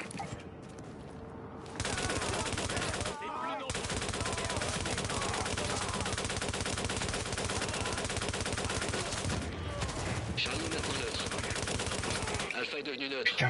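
Dense rapid gunfire from a first-person shooter game's solo mode, sustained bursts of automatic shots nearly filling the stretch with a couple of short pauses, loud and close, with brief game voice lines and a player talking over it.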